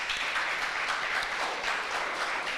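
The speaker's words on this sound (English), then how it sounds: "Clap her, man, clap her" Audience in Parliament applauding a child, the first to address it, on International Day for People of African Descent: steady, dense clapping throughout, fairly close and even in level, with no talk over it.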